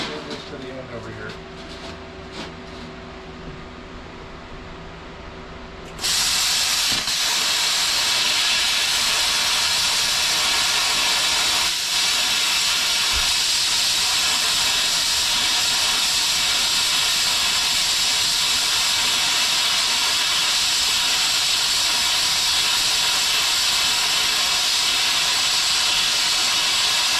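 An Arccaptain CUT55 PRO plasma cutter cuts metal. Quieter machine hum comes first, then the arc starts with a sudden loud, sustained roaring hiss that runs steadily for about twenty seconds, close up.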